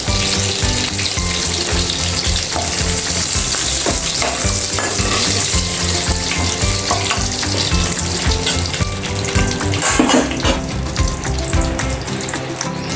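Potatoes frying in a pan for a restaurant-style paneer curry, a loud continuous sizzle and crackle with stirring scrapes, close up and steady for the whole stretch with no talking.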